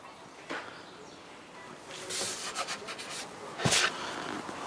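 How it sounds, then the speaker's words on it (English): Sandpaper rubs over wood for narrowboat stern storage steps, a soft steady scratching with a few brisker strokes toward the end, close by and fairly quiet. "Sanded everything up now"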